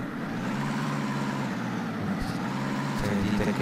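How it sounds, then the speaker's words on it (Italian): A Fiatagri 90-90 tractor engine runs at a steady, loud rumble from close by, holding a constant low drone for several seconds with no talk over it. "Sentite che potenza del nostro Fiatari 90-90."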